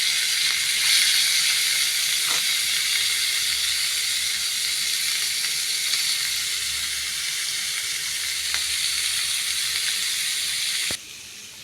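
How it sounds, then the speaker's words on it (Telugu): Coconut pieces fry in a pan with a steady, close hissing sizzle that runs almost unbroken, with a few faint ticks, then a sharp click just before the sound drops away. No voices. "ఇప్పుడు కొబ్బరి ముక్కలు వేయించుకుందాం."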